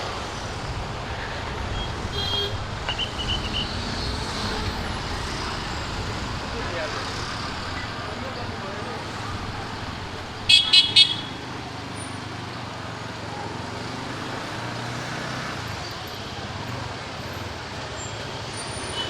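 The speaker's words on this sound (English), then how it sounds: "Oh my god, here is so much of traffic." Road traffic in Kohima rumbles steadily throughout, with a short burst of honking near the middle.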